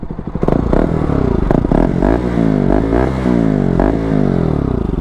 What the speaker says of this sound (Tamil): ஸோ பியூர் எக்ஸாஸ்ட் சவுண்டு கேளுங்க.